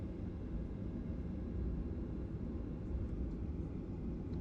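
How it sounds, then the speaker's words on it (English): Cabin rumble inside a Virgin Australia airliner at Brisbane as it taxis onto the runway for takeoff to Sydney, a steady low engine drone filling the space at constant loudness, with no talking. "No, we are the next ones for takeoff."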